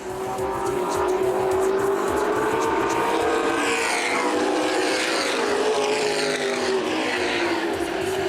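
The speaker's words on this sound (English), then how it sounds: "Lap car, Josh Timmerman going to play havoc with him. And Spillers has to check up once again." Late model sportsman race cars roar around Winchester Speedway at a 2012 CRA event, the loud engine drone sustained throughout with pitch sweeps as cars pass close by.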